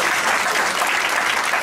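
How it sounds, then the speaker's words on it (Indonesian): A church congregation claps together in a short, steady burst of applause, close and even throughout with no pauses. "Tepuk tangan buat Tuhan."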